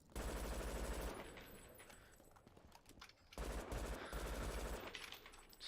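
Gunfire in the video game Brink, shooting an enemy landmine: two sustained bursts of rapid automatic fire separated by a brief lull, loud and dense.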